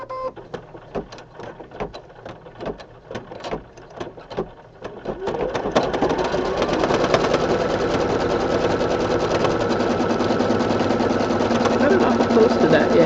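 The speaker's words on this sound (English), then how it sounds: "Return it to the machine and it will run a tack down stitch for number 6." An embroidery machine running a tack-down stitch on a small clover design in a 4x4 hoop. It starts with separate rapid ticking stitches, then settles into a steady, close, continuous mechanical chatter.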